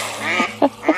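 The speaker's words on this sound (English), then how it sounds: "There's a puppy chasing some ducks right now." Ducks quacking while a puppy chases them, three short honking quacks in quick succession, close and clear, with no talk over them.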